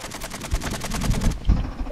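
Rapid automatic gunfire from Call of Duty: Modern Warfare II, a fast rattling burst of a dozen shots that cuts off, followed by a couple of heavier booms, loud and close.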